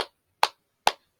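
A burst of claps from a class of third-grade primary schoolchildren, three sharp strikes in a steady even rhythm, close by and without any talking.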